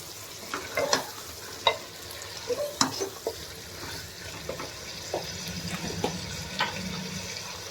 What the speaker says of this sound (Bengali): মাটনটা দিয়ে আমি একটু তেলের উপর প্রথমে নেড়ে নিচ্ছি